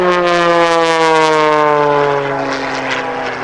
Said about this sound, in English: Hey, Mike, you see that other airplane up there, don't you?